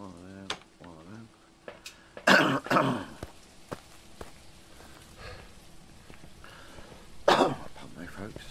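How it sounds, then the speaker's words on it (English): A man coughs and clears his throat inside a farmhouse at midnight, two harsh loud fits separated by quieter breathing and shuffling sounds, with no speech. "Pardon me, folks, sorry about the coughing."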